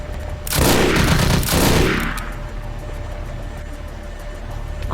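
Burst of rapid gunfire from a firefight in the vampire role-playing game Vampire: The Masquerade - Bloodlines, a loud dense volley lasting about two seconds that fades into a quieter rumbling background.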